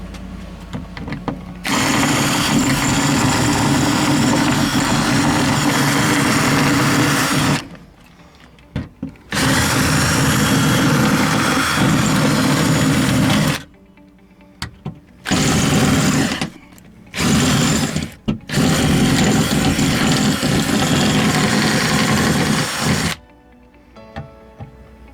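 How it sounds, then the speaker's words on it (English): A power drill whines in long bursts, drilling out rivets on a 2006 Porsche Cayenne door during lock actuator replacement, stopping and restarting several times with short pauses between runs, loud and close. "So I'm gonna have to drill it out a little bit more."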